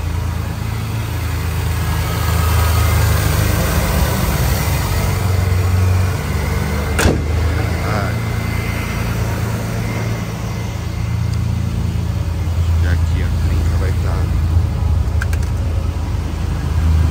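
Steady low engine drone and road rumble from a 1998 Ford F1000 XLT pickup truck on 33-inch tires with a 5 cm lift, heard from inside the cab while driving, with a few faint clicks and rattles.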